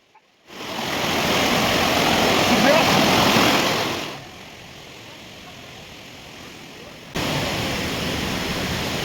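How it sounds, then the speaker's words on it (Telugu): Steady rushing water from small waterfalls in a stream at Ahobilam, loud and broadband, fades to a softer flow partway through and then swells again, with no voices. "ఈ చిన్న చిన్న జలపాతాలు అయితే చాలా ఎక్సలెంట్గా ఉన్నాయి"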